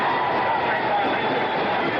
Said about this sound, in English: the crowd is going wild here at the Superdome